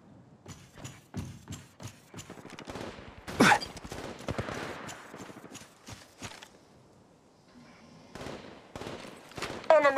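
Weapons fire in Apex Legends Mobile comes as rapid, sharp shots in repeated bursts separated by short pauses, loud and close, with no talking.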